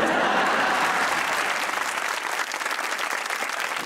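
A studio audience applauds at a Pakistani comedy talk show, dense steady clapping that fills the whole stretch and eases slightly toward the end, with no talking over it.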